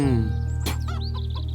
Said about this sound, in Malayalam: മിന്നുകോഴിയിട്ട മുട്ട ഇന്നും പൊട്ടി.